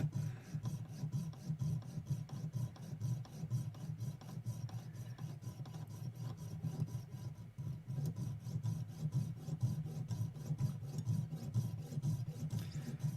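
Jeweler's saw blades cut with a fast, steady rasping stroke, repeating evenly and close by for the whole stretch, with no talk.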